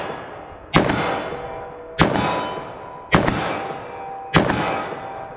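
Four evenly spaced .44 Magnum shots from a Winchester Big Bore rifle ring out, each a sharp loud crack with a long metallic decay, about a second apart, alone with no talk.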